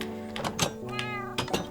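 A cat meows close by at a building site, a couple of short nasal calls with small knocks and rustles around them, no talk over them.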